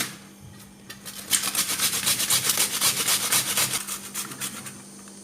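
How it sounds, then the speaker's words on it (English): Three onions are rubbed against a grater in a fine grate for chicken do pyaza, producing a quick run of close, rhythmic rasping strokes that swell and fade over a few seconds with no talking. "we're going to make a fine grate of these 3 onions"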